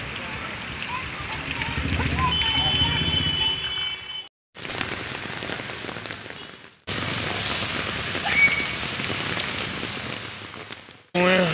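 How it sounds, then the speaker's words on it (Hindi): Steady rain pouring and splashing on a surface, close and loud, interrupted by two brief silent gaps; a voice speaks briefly. "ऊपर से जो बारिश का पानी आ रहा है ना,"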